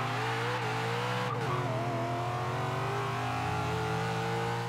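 A 6.2-liter V8 of roughly 650 horsepower, modified, roars steadily as it accelerates in Forza Horizon 3, with rising engine tones and a brief dip mid-run before it climbs again, loud and continuous throughout.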